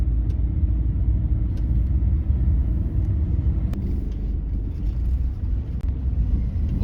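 A car at a driving school idles and pulls away in a steady low engine rumble, close and continuous, with a few faint clicks and no talk over it.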